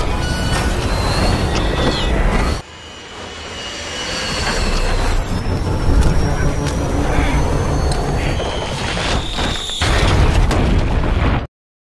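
An explosion aboard a plane in the film World War Z, set off by a grenade that blasts zombies out and sends the aircraft lurching, with loud broadband blasts over roaring engine noise and a sudden drop partway through.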